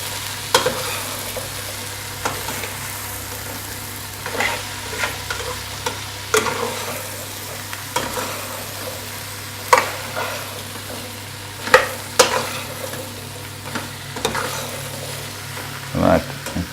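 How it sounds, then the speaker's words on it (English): Vegetables stir-frying in oil over high heat, with a continuous close sizzle and repeated scraping clinks of a utensil stirring in the pan. "give it a good stir so that all the vegetables are coated nicely in the oil."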